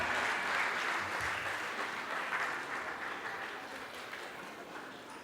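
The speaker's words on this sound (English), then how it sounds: "let's give another big round of applause to our live performers." An audience at a Nepali Jatra 2022 event gives live performers a sustained round of applause, a dense wash of clapping that starts full and slowly fades over several seconds.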